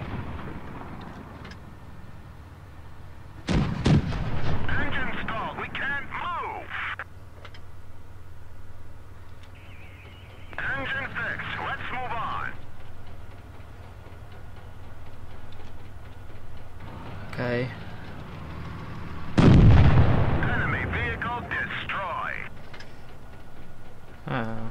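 Tank cannon shots in World of Tanks Blitz, several heavy booming blasts spaced apart with rumbling decay, the loudest near the end, over a low game background.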